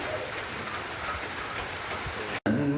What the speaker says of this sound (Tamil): மழை பெய்யறதுனால.